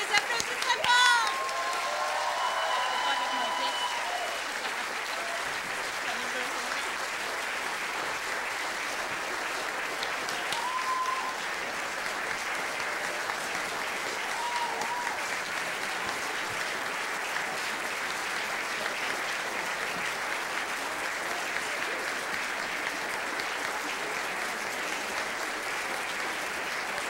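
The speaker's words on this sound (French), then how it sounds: "On les applaudit très fort!" Audience applause at a cultural gala awards ceremony, a steady, moderately distant wash of clapping that carries on for nearly half a minute, with a few faint voices in the crowd.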